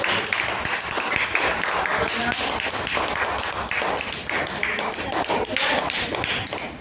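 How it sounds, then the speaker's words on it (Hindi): Students in a primary school maths class clap for a classmate who answered correctly, a quiet scattered patter of small hands tapping irregularly. "इनके लिए ताली बजा दीजिए"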